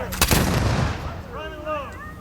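Ceremonial rifle volley fired at a groundbreaking ceremony, one sharp loud crack that rolls off into a long echoing decay, followed by faint high whistling tones.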